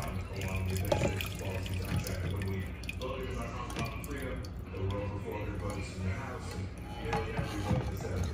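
Rose petal water that has steeped for thirty minutes being poured through a strainer, a steady splashing trickle with drips running under a woman's speech.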